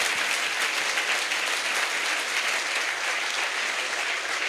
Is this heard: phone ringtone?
no